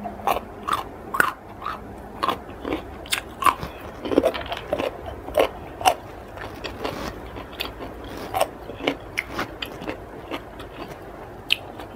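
Someone chews soy-sauce-pickled clams close to the mic, producing repeated wet, squishy bites and crunches in an uneven rhythm with no talking.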